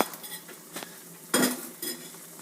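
Two scrambled eggs with a dash of milk pour into a pan of oyster mushrooms and wild onions, with a few scraping clinks of a utensil against the pan and faint sizzling.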